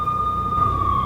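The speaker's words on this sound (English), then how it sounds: "I could hear the sirens. Their wail was a crescendo." Police sirens wail steadily in the Max Payne video game, a loud sustained tone that dips slightly in pitch, heard alone without voices.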